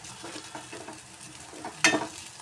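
Crushed peanut powder being roasted and stirred in a pan, soft dry scraping and faint sizzle, with one sharper louder scrape near the end, quiet and without talk.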